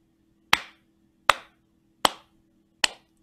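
A steady rhythm of four bright hand claps, evenly spaced and equally loud, rings out near and clean with brief decays over a soft background hum and no speech.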